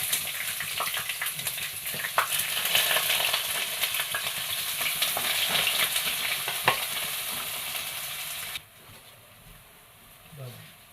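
Onion dropped into hot oil with mustard seeds and fenugreek, giving a loud, hissing sizzle with occasional stirring clatter, close by, which dies down to a quiet simmer near the end; a voice speaks briefly.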